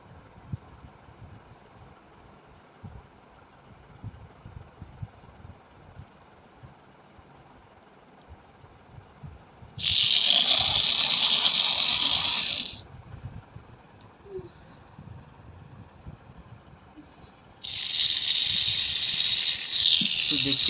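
A small gear motor powered by a 3.7 V 2000 mAh lithium battery whirs in two loud bursts of a few seconds each, with quieter handling noise between them.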